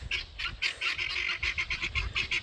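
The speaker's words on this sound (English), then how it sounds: "These chickens are crazy, man." Several chickens cluck and squawk in quick, repeated bursts, close by, over a low rumbling background.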